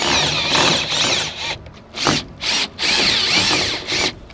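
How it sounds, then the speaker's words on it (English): A power drill drives screws into pilot holes in repeated whirring bursts, several short runs separated by brief pauses, close and loud. "I'm just going to use my drill and drive them right up in there"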